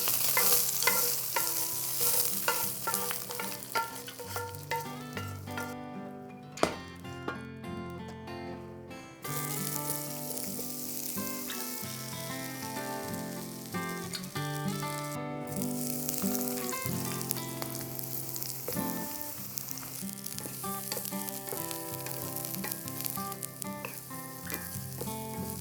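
Ratatouille vegetables frying in a pot give a steady close sizzle throughout, with stirring and clatter layered over background music.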